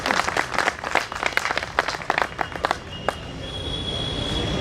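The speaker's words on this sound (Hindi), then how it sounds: "एक बार जोरदार ताली," An audience at a Hindi poetry gathering (kavi sammelan) in Ujjain claps briskly for a few seconds, then the applause stops, leaving a steady hum and faint background noise.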